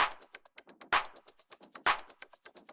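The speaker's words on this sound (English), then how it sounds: "I added this shaker loop, which is really low in volume, and it sounds like this." Quiet shaker loop from a house track, rapid rhythmic shuffling strokes in a steady sixteenth-note pattern with accented pulses about once per second, soft and alone.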